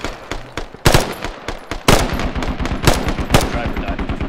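Rapid automatic gunfire in a video game, loud and close, with dense bursts of repeated shots and a few heavier single reports running through the whole stretch.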